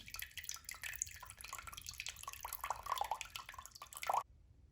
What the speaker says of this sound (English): And you can allow the water to flow until it completely stops dispensing.